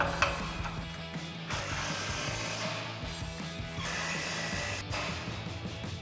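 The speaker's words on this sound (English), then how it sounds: "we can tighten down our two slip joint clamps on our H-pipe, again with our 15mm socket on our impact" An impact wrench with a 15mm socket tightens two slip joint clamps on a Corvette's H-pipe while a Borla S-Type II axle-back exhaust is fitted, giving a few close bursts of rattling mechanical hammering.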